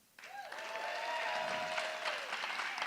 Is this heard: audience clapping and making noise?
yes